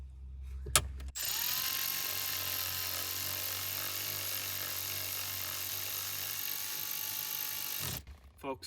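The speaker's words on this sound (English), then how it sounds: "we're gonna fasten this 8 milli right to that ground strap." A ratchet wrench drives an 8 mm bolt onto a ground strap while fitting a factory heated steering wheel in a 2022 Ford, giving a steady, close mechanical whir that runs continuously for several seconds before stopping.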